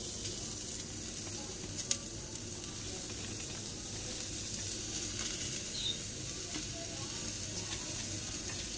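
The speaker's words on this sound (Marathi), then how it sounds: "पहिला कांदा गरम कांदा भाजण्यासाठी घेऊया।" Onion roasting in a hot kadhai for misal masala: a faint steady sizzle and hiss with occasional soft taps, low and even throughout.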